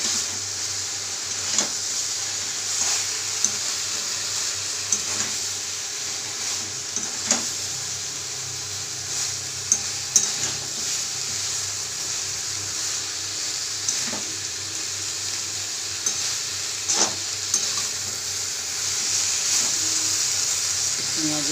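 Eggplant pieces sizzling as they are stirred into a thick onion masala gravy in a pan, a steady hiss of frying with a few spoon scrapes and knocks spread throughout, heard close.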